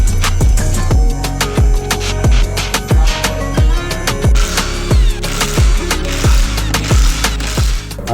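Mechanical ratcheting of a car lift raising a drift-built Chevrolet Camaro in a garage: a steady train of sharp clicks over a constant motor hum, close and loud throughout.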